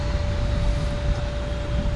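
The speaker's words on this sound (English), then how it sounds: "Excuse the noise, it's a bit busy. It's a working boatyard." Steady broadband noise of a busy working boatyard beside a narrowboat, a constant low rumble and hiss with a thin tonal whine running throughout, no voices.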